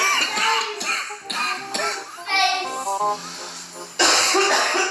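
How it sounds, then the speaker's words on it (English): A person coughs repeatedly up close in harsh, rapid bursts, with a wheezy, strained stretch in the middle and a loud cough at the end. "why you coughing like that?"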